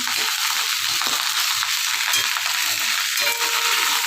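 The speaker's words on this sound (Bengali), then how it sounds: "কালকের ভাত ছিল ডিম দিয়ে পেঁয়াজ দিয়ে লঙ্কা দিয়ে ভাজা করে দিচ্ছি" Leftover rice fries with egg, onion and chilli in a hot pan, giving a loud, steady, dense sizzle throughout with occasional stirring scrapes and no speech.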